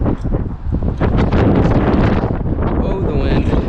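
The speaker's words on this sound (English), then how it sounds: "Oh, the wind." Heavy wind buffets the microphone of a turbo GT86 driving in the rain, a loud, dense rumbling roar that fills the whole clip, with a voice briefly heard under it.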